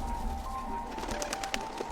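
Pigeons coo softly in the background against a steady outdoor hum and faint ambient noise, with a few short calls and no speech.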